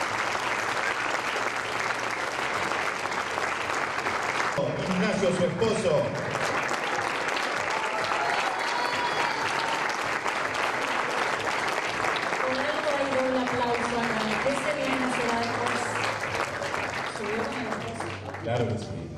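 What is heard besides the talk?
audience applause at a graduation ceremony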